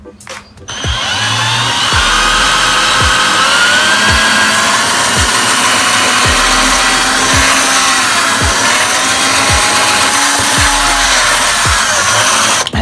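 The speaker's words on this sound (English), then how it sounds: "And you drill and make sure you're straight up and down." A power drill boring a screw hole for a Dollar Tree candle sconce, whining loud and steady with rhythmic ticking pulses for over ten seconds, starting after a brief pause with no talk.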